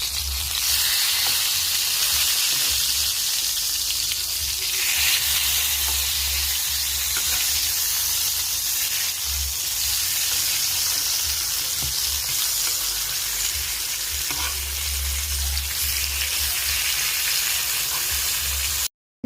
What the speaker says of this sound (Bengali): এক এক করে বেগুনের পিসগুলো আমি এখন তেলের ভিতরে দিয়ে দিব